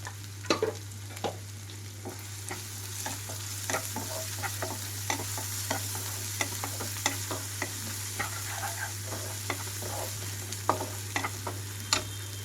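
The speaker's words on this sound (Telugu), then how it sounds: "తీసి మళ్ళీ చన్నీళ్ళలో కడిగిన క్యాలీఫ్లవర్ ఇందులోకి వేసేసాను" Blanched cauliflower stir-fries in a hot pan with yellow moong dal and turmeric. A constant sizzle runs under repeated sharp spatula scrapes and taps against the pan, with a low steady hum behind it.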